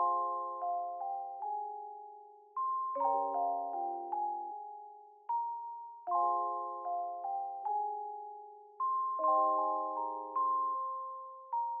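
A bell-like synth in an FL Studio beat plays a sequence of clean, pitched chord tones, each note ringing and decaying in a steady repeating pattern, with no other instruments or voices.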